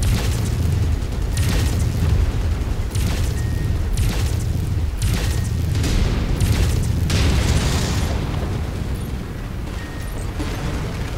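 Heavy explosions and booms from MechWarrior 5 combat as a target and buildings are destroyed, loud dense blasts rolling continuously across the whole stretch with no speech.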